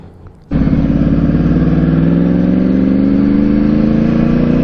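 A BMW S1000 RR motorcycle engine kicks in abruptly and holds a loud, close, steady drone with a buzzy harmonic tone that climbs slightly in pitch.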